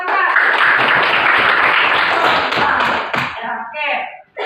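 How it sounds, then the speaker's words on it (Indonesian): A class of students claps for Rangga, a loud burst of scattered applause with some thumps that carries on for about three seconds and then fades as a teacher begins speaking. "Tepuk tangan dulu untuk Rangga."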